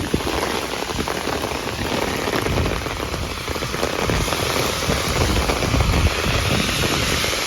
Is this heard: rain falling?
yes